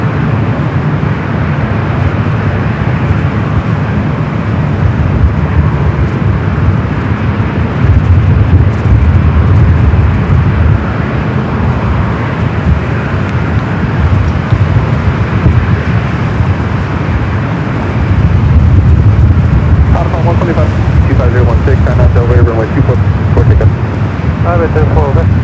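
An ANA Boeing 777 departs Los Angeles International Airport, its jet engine roar loud and continuous, rising slightly toward the end, with a voice talking faintly underneath.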